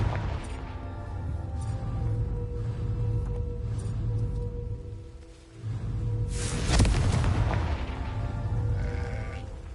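A Confringo fire spell bursts in Hogwarts Legacy, a sharp crackling blast rising out of an ongoing game soundscape with bleating animal sounds and low ambient drones around it.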